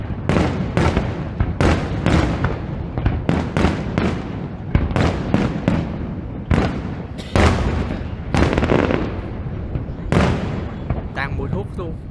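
Fireworks for the 2016 New Year burst in a rapid, continuous barrage of loud cracks and booms, with voices talking beneath the explosions.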